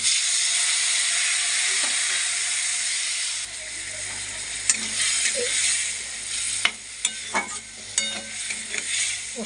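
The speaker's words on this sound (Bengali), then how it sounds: "মশলা দিয়ে এবার একটু কষিয়ে নেব" Spice paste for a rohu fish curry with drumsticks and potato fries in a pan, a loud, steady sizzle and hiss that drops a little partway through, then scraping stirring clicks.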